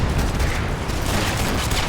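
Dense gunfire from the video game Sniper Elite 4, a rapid string of loud overlapping shots and booms filling the whole two seconds.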